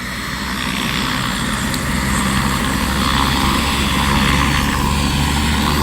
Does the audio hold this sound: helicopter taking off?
yes